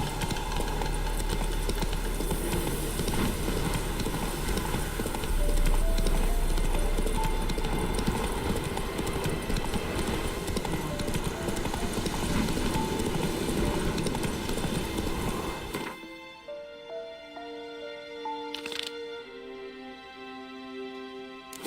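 Hooves of the horse Roach in a video game clip-clop in a steady galloping rhythm, loud and continuous for most of the clip, then stop and give way to quieter game sounds.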